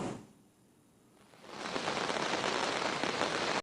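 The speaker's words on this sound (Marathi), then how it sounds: "पहाटेपासूनच मुसळधार पाऊस पडतोय" After a moment of near silence, heavy monsoon rain in Mumbai comes on strong, a loud continuous downpour hissing and pattering for the rest of the clip.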